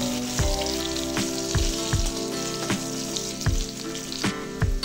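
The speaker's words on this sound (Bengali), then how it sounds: "আমি এই তেলেতেই আলু ভেজে নেব" Potatoes seasoned with turmeric and salt fry in hot oil, a steady crackling sizzle with sharper pops every second or so, close and fairly loud, no voices.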